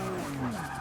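Tires on a 1954 Jaguar XK120 SE with all-wheel drive squealing as it drifts sideways in Forza Motorsport 6, a sustained, loud, wavering skid over the steady engine drone.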